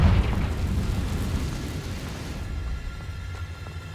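A Confringo fire spell bursts in Hogwarts Legacy, a loud close blast at the start with a deep boom that decays into a rumbling, fading tail over a few seconds.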